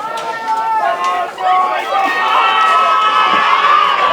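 Crowd at an evening boys lacrosse game between Nantucket and Hull cheers and shouts steadily, a dense roar of many voices with children's shouts that dips briefly and then swells back up loud and sustained.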